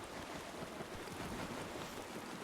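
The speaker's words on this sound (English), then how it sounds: "Why is the water so loud?" Loud, steady water wash in the video game Palworld, a continuous broadband rushing like surf or flowing water filling the whole stretch without pauses or talk.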